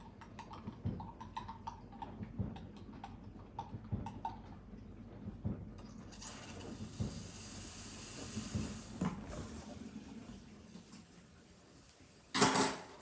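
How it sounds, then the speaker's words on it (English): A Breville Infuser BES840 espresso machine steam wand steaming milk, starting with quiet clicks and ticks before a steady hiss that runs for several seconds, ending in a short louder burst of steam. "Next we'll steam some milk."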